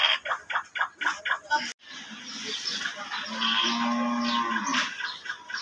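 Cattle at a busy cow market, a few low moos partly masked by someone talking close by and crowd noise around him.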